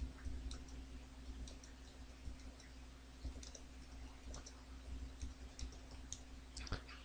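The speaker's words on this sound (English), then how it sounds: "Just gonna type in something really quick." Quiet, irregular clicks of typing on a computer keyboard, scattered light taps over a steady low hum from a computer in a room.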